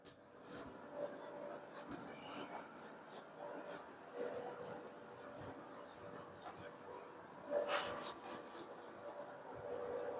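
Chalk or marker writing rubbed off a classroom board during a maths lesson, a series of quick, rhythmic scrubbing strokes close by, soft and steady for about ten seconds, with no talking over it.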